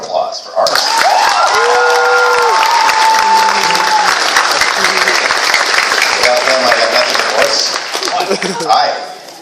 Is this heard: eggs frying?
no